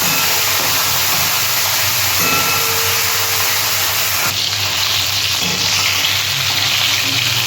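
Fish fries in hot oil in a home kitchen, a loud, steady sizzle that runs without a break, with a brief stirring shift partway through.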